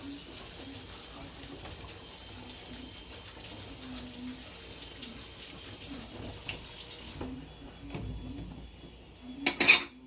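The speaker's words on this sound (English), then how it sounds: "rinse the starch off these potatoes." Tap water runs steadily into a kitchen sink as starch is rinsed off potatoes, a soft hiss with faint clinks of pots, then the flow stops and a few louder clatters follow near the end.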